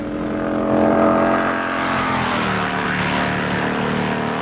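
Racing motorcycles on a 1960s road course brake hard from high speed for a right-angled corner, engines droning and falling in pitch, heard steadily at moderate distance without talk.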